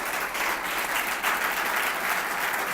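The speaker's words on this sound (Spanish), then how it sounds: "Alguien que le dé un aplauso al Señor, vamos." A church congregation applauds during a sermon, a dense, continuous roar of many hands clapping together, loud and even for the whole stretch, with no voices on top.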